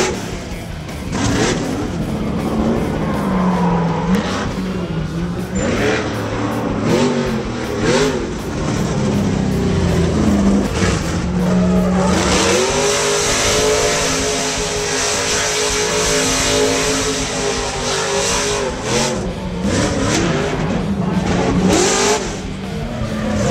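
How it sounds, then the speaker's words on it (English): Lucas Oil off-road trucks put on a stunt demonstration for a crowd in a parking lot, with loud, continuous engine roaring and repeated revving that surges and holds throughout. "Some Lucas Oil drivers were there with their trucks, and every 2 hours put on a sweet demo for the crowd."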